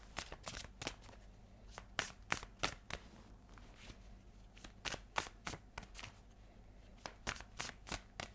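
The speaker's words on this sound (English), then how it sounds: "I'm going to shuffle." Tarot cards are shuffled in quick bursts of riffling and snapping, crisp and close, with short pauses between runs and no voices.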